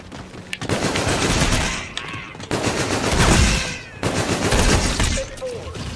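Repeated bursts of rapid automatic gunfire from a gun in Call of Duty Infinite Warfare Zombies, loud and close, arriving in three long volleys separated by short pauses.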